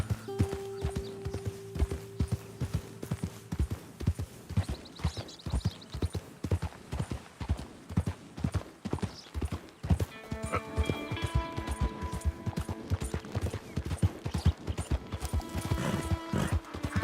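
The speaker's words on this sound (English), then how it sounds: "Horse seems to make those noises whether or not I'm hitting the timing" A horse in the Red Dead Redemption 2 video game gallops with a steady, rapid clip-clop of hooves throughout, near and prominent, while whinnies and neighs break in over the hoofbeats, especially in the second half; no talking.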